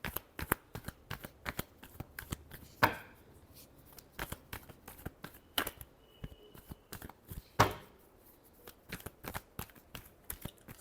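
Tarot cards shuffled by hand, a long run of quick, sharp, close riffling clicks with a couple of louder slaps as the deck is squared, no speech.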